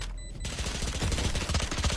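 Rapid automatic gunfire from the Riot shooter game, a dense burst of close, loud shots firing continuously after a brief quiet start.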